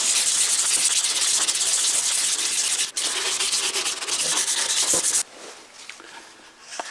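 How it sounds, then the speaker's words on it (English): Wet-dry automotive sandpaper, 320 grit, rubs back and forth over a steel axe head in steady, loud, close scratchy strokes, then softens to lighter sanding near the end. "Now I'm using wet dry automotive sandpaper, 320 grit."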